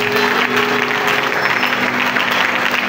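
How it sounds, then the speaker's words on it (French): Congregation applauding for Jesus at a Bible seminar, steady dense clapping filling the room throughout, loud and close with no break. "Est-ce qu'on peut acclamer Jésus?"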